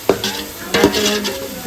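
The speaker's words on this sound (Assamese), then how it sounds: "এতিয়া এনেকৈ ভাজি আছোঁ" Mutton pieces sizzle in hot oil in a pan with salt added for korma pulao, with a steady frying hiss broken by two distinct scraping stirs of a spoon against the pan, close and fairly loud, no talk.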